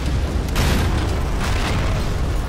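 Shotgun blasts in GTA IV ring out as dense, booming roars that fill the whole stretch, with two heavier bursts swelling out of a constant loud rumble.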